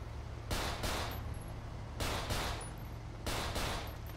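Gunfire in GTA 5 rings out in three rapid bursts of two close sharp shots each, evenly spaced, over a low steady background hum.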